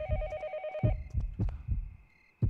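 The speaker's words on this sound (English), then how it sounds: "Is that a phone ringing?" Telephone ringing in the horror video game Yomawari: Night Alone, a shrill electronic ring that cuts off early, followed by a series of deep, regular heartbeat-like thumps.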